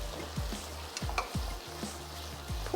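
Meat masala with onions for tamatar gosht fries in a pan, a continuous sizzle broken by rhythmic scraping stir strokes about every half second, close and clear.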